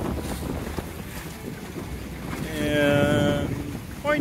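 A sailboat under double reef and jib moves in wind on the St Louis River Estuary, with steady wind buffeting and water rushing close by and a brief whistling tone partway through.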